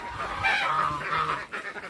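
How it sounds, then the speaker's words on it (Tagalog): Geese honking at a farm with a chicken coop in the evening, a cluster of nasal overlapping honks fairly near and loud for about two seconds, with faint background noise. "May goose."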